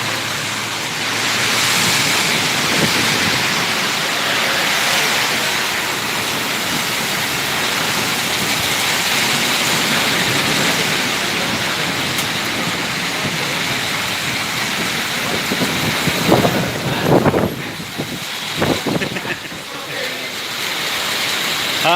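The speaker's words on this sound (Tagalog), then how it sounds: "Lakas ng ulan." Heavy rain pours in a steady, dense hiss throughout, with a few louder splashing bursts and faint voices near the end.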